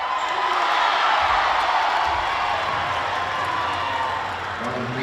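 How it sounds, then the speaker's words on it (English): A crowd cheering and clapping at a Sri Lanka versus India under-18 basketball game, a loud sustained roar that eases slightly near the end, with a few faint squeaks and thuds beneath. "Well, crowd cheering"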